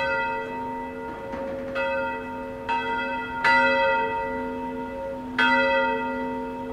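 Bronze church bells ring out in a loud, resonant sequence of struck tones, each strike leaving a long sustained hum that overlaps the next, with no voices.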